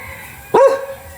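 A single sharp dog bark, close and loud, bursting out once before fading into quiet background.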